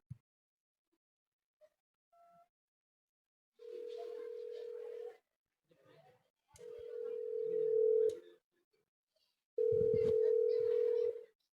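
Steady electronic telephone tones sound while a call is placed, coming in three long beeps separated by silences. A few faint clicks and handling noises come before them.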